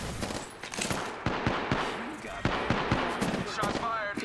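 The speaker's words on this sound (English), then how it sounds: "Shots fired. And they're hitting me." Rapid gunfire from the video game Apex Legends, with several bursts of shots and sharp impacts cracking over a busy, loud mix of in-game sound.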